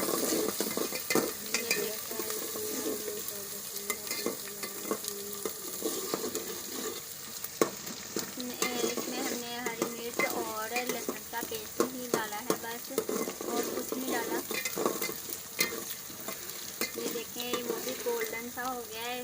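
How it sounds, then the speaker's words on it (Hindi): Broken wheat grains shift and rustle as they are dry-roasted in a hot pan and stirred steadily, with a soft continuous sizzle and occasional scraping of the spoon. "हम इसे अच्छी तरह से भूनेंगे।"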